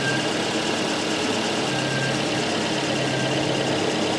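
A Volvo 244 engine idles steadily during a tune-up, a constant, even mechanical drone with no change in pitch or rhythm across the few seconds, close and moderately loud.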